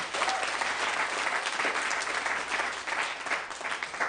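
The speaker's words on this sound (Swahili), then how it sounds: "Hebu jipigie makofi" A church congregation breaks into sustained, dense applause, steady and loud throughout with no pauses.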